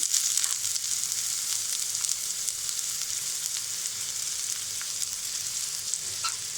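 Chopped onions frying in plenty of hot oil in a pan, giving a loud, continuous close-up sizzle with faint crackles and occasional stirring clicks.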